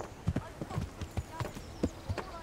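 Horse hooves clip-clop in an irregular quick patter on hard ground in Kingdom Come: Deliverance, close and fairly soft, as the horse shies off to the side; no clear whinny stands out.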